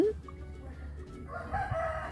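A rooster crows once near the start over low rumbling background noise, followed by a softer fowl call toward the end, fairly faint and somewhat distant.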